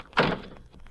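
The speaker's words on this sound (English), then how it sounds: "I'll open the back door." A car's back door opens in an old radio drama, one short dull thunk up close, then quiet.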